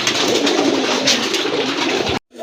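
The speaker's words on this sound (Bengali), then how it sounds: "দেখতে পাচ্ছেন এক জোড়া কাগজি কবুতর, চুইঠাল কবুতর" A pair of Kagji (chuitail) pigeons with feathered feet and crests coo steadily, close and fairly loud, in a continuous low burbling that stops abruptly near the end.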